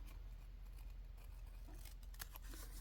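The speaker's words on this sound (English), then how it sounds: "we're just going to have to cut it with scissors" Faint scissors snipping through rag paper, a few crisp cuts near the end against a low background hum.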